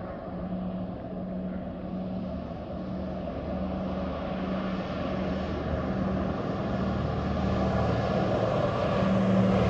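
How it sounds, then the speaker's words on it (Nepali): An airplane taking off in the Mustang region of Nepal, engine noise building steadily into a rising roar with a low droning hum beneath, heard from nearby without talk. "प्लेन उड्यो गाइज"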